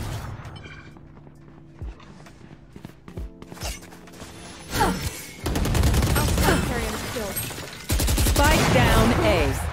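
Gunfire from a shotgun in the Valorant shooter game, loud cracking shots in quick bursts over game effects, with a voice talking during the clip.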